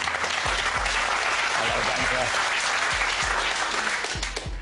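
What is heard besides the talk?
studio audience applause on game show Deal or No Deal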